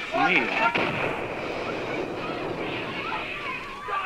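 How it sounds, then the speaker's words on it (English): Heavy gunfire booms and rumbles through a dense, noisy background, with muffled voices mixed into the din. "I can kind of tell that from all the gunshots."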